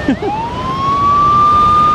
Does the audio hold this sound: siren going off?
yes